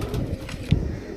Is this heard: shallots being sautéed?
no